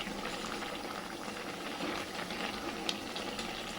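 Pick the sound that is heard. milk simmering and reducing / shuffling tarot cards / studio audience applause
milk simmering and reducing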